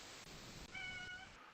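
A pet cat named Zuki meows faintly in a short harmonic call, nearby but soft beneath steady background noise.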